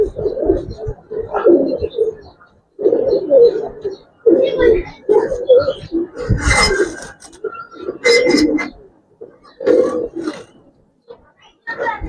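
Male Giribaz pigeons coo repeatedly in deep, throaty bursts, close and loud, with someone talking among the calls.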